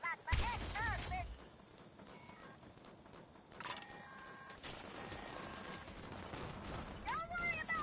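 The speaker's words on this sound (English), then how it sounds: "Don't worry about all the explosions." Explosions and gunfire erupt in the video game Fallout 76 as bursts of rapid shots and booming blasts, loud at the start and recurring over a busy mix with voices and other game sounds.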